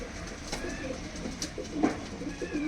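Punjabi Malwai pigeons with yellow eyes coo softly in a loft, a few low throaty calls rising over faint background noise, with no talk.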